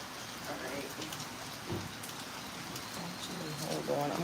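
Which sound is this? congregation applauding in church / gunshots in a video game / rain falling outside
rain falling outside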